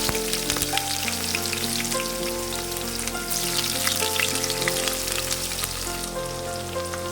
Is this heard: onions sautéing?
yes